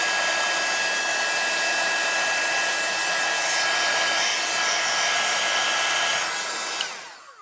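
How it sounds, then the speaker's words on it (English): A heat tool blows hot air onto a craft backdrop, a steady loud broadband whoosh with a faint whine that runs almost the whole time before cutting off abruptly near the end. "So back with the heat tool."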